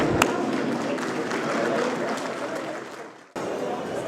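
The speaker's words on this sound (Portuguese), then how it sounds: "Pedir a todos que ficassem em pé, uma salva de palmas" Standing ovation from a seated audience at an executive board meeting event, a dense wash of clapping and crowd noise that holds steady, dips briefly near the end, then resumes at full strength.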